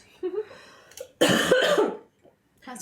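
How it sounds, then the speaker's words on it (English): A person with a persistent cough lets out a harsh, loud coughing fit of about a second, preceded by brief throat sounds, then pauses before another cough begins. "Did anyone else get this like cough that won't quit?"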